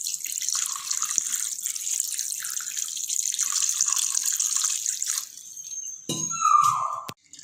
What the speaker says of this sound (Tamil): வாட்டர் ஆட் பண்ணி நல்லா புழிஞ்சு விட்டுக்கலாம்.